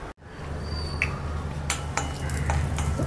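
Peanuts roasting in about two teaspoons of hot coconut oil in a pan, giving a steady close sizzle with several sharp scrapes and clinks as a utensil stirs them.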